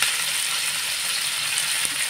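Tomato, ginger, garlic and cashews fry in a pan for a bhindi masala, a steady close crackling sizzle that continues evenly without a break.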